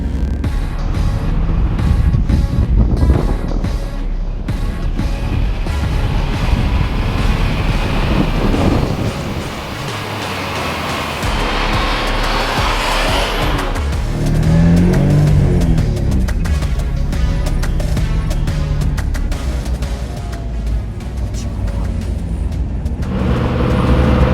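A Toyota Supra drives with its engine running slightly rough on old fuel. A loud, steady drone of engine and road noise carries throughout, with shifting tones and no talking.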